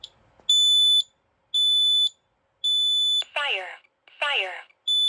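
A 2000-model smoke alarm under test sounds a piercing electronic beep in long, evenly spaced blasts, close and loud, with a recorded voice speaking between the later tones.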